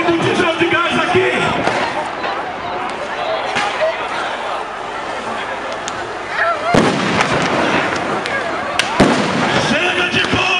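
Police bombs burst repeatedly during a street protest, loud sharp blasts over a dense shouting crowd and constant noisy commotion, with a couple of especially strong bangs near the end.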